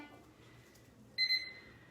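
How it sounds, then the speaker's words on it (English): A timer beeps in a short bright burst of two quick electronic tones during a lash and brow lamination treatment, standing alone over a quiet room. "I'm going to start my timer for that left eye."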